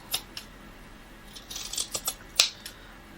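Scissors trimming long grass to size for a crafted thatched roof, a handful of crisp close snips in an uneven rhythm, the last one loudest, with no talking.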